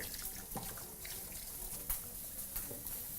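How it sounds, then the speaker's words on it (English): Hands are rinsed under a running kitchen tap while sticky pork ribs are prepared, a steady close hiss of flowing water with brief splashes as the hands move through the stream. "Just quickly rinse your hands at this stage."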